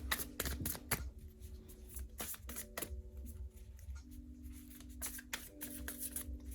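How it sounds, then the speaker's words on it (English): A deck of animal medicine oracle cards is shuffled by hand, making quick, papery riffling bursts and soft flicks up close as a card is drawn. No one speaks. "So let's pull one more card."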